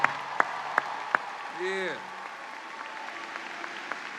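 Scattered, sparse claps and cheers from a college commencement crowd honoring graduates' families, with a few sharp isolated claps over a soft crowd bed and a brief vocal whoop partway through.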